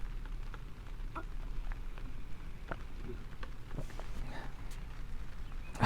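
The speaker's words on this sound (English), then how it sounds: "I don't know if the microphone is picking up on the rain yet, but it's coming down." Rain falls steadily outside with scattered drops ticking on a surface, a soft, even patter at moderate distance with occasional louder taps.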